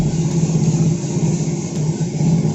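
A coffee roaster drum turns at 60 RPM while roasting organic Gayo coffee, giving a steady, loud mechanical hum and rumble with a faint periodic churn and no pauses.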